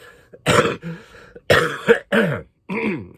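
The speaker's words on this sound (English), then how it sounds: "there's the cough." A series of loud, close coughs and throat-clearing bursts from a person ill with Covid, several harsh hacks separated by short pauses.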